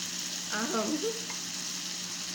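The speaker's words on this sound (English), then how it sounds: "And as the butter melts down, I'm going to give it a little bit of time." Butter sizzles in a pan with steak, a steady, close frying hiss with a faint, brief voice-like sound near the start.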